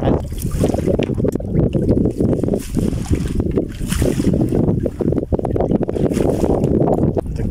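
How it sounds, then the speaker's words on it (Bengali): A fishing net is hauled into a boat on a wetland lake, a steady rough rush of wet rustling and water sloshing under wind noise, with a faint voice in the background. "জাল টেনে নৌকাতে ওঠানো হচ্ছে"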